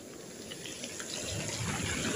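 Light rain drizzles outdoors at a windy seaside fishing spot during a strong northeast monsoon, a soft steady hiss that grows slightly louder and denser toward the end, with no voices.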